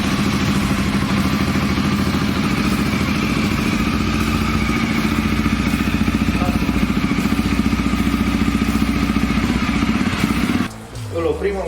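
A CF Moto CForce 450 ATV engine idles steadily after an oil change, a loud, even, close mechanical rumble with a faint clatter, cutting off near the end.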